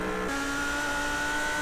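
Audi R8 GT3 race car at Mount Panorama Bathurst in a racing game, engine howling at high revs with a quick shift early on, then a steady sustained tone through the corner.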